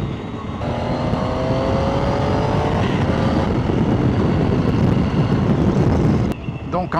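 A 2017 Triumph Tiger 800 XRT motorcycle engine on the road, a loud, steady engine drone mixed with wind buffeting that holds for several seconds before easing off near the end.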